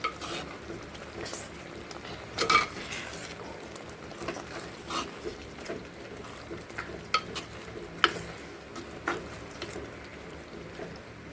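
Soaked prawns being stirred into masala in a pan for prawn thokku, with soft scraping and light sizzling clicks scattered throughout at moderate level, no talking.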